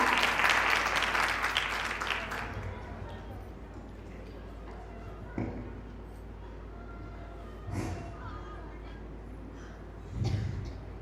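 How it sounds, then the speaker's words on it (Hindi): Applause from an audience welcoming a speaker onto the stage at a college commerce festival in Ballia. It starts dense and loud, then fades into a quieter room with a few scattered thuds. "तो जोरदार तालियों के साथ स्वागत करता है Bubbly का।"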